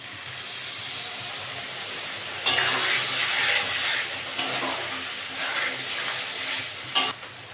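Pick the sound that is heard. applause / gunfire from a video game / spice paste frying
spice paste frying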